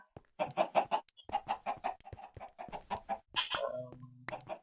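Minecraft chicken clucking in quick rhythmic bursts, close and clear, followed by a short squawk and a low tonal blip.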